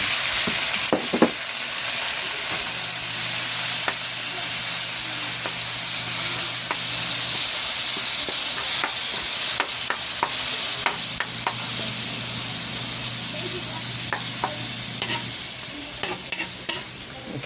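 Ground pork (giniling) sizzling in a hot pan while a utensil stirs and scrapes it, a loud steady hiss with scattered clicks and scrapes over about seventeen seconds, no talking.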